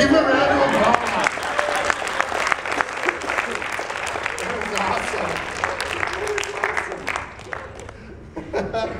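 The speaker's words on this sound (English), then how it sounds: "Give him a round of applause." Workshop audience at an anime convention applauding, a dense steady wash of clapping with scattered chuckles, fading out near the end.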